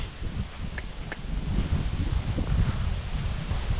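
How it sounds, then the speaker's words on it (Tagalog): Strong wind roars and buffets the microphone continuously on a ginger farm, a dense low rumble with rustling, and no one speaking. "Talagang sobrang hangin eh."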